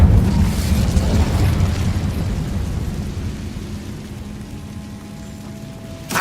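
A fiery blast from the Incendio spell in Hogwarts Legacy bursts loudly at the start, then fades into a crackling, rumbling tail that thins out over several seconds.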